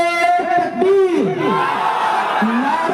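Crowd at a religious gathering shouting back a Naara-e-Takbeer response in unison, a loud massed vocal burst with overlapping voices near and around.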